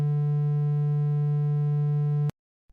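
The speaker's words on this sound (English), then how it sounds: "That sound is called a triangle wave." A synthesized triangle-wave tone holds one steady low pitch with a bright, buzzy edge for just over two seconds, then cuts off abruptly into silence.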